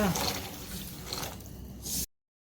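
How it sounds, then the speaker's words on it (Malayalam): Two cups of water pour briefly into a pan of pappadam curry with a splashing, hissing rush, then cut off abruptly after about two seconds. "ഇതിലേക്ക് നമുക്ക് ഒരു രണ്ട് കപ്പ് വെള്ളം ഒഴിച്ചു കൊടുക്കാം"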